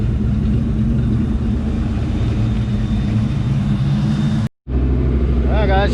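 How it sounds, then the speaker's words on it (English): A Ford Mustang GT with a new exhaust idles in a steady low rumble. The sound cuts out for a brief moment, then resumes, and a faint whistling tone comes in near the end. "she's idling really well."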